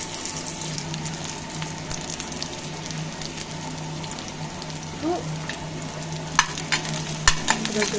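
Yetti chutney ingredients fry in hot oil with a steady, close sizzle and scraping stirs, ending in a few sharp clicks of a utensil; no one speaks.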